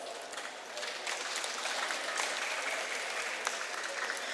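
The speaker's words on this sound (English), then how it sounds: "Let's all give them a big round of applause." An audience at a Model United Nations award ceremony applauds the winners, a sustained wash of clapping from a crowded hall that swells after the first second and holds steady.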